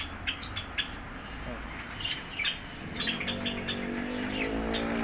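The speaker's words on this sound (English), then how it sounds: "There's so many birds here." Many small birds chirp and tweet in short bursts at a gathering place, with steady background noise throughout.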